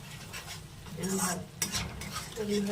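An egg and soybean curry is stirred in a pan after yogurt goes in, with a spoon scraping steadily through the thick mixture against a soft sizzle that continues throughout.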